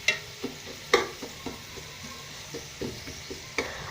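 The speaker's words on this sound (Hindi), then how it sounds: "साथ साथ जो है सब्ज़ी भी थोड़ी सी हल्की सी फ्राई होगी" Eggs and vegetables fry together in a pan for fried rice with a low steady sizzle. A spatula taps and scrapes the pan in regular close strokes about every half second.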